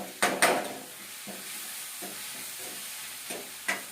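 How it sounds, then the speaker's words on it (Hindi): Paneer masala spices fry in a pan over a low flame, giving a soft, steady sizzle with a few louder scraping stirs of a spoon at the start and end and lighter stirs between. "हल्की फ्लेम में इसको मसालों को इसके साथ फ्राई कर लीजिए।"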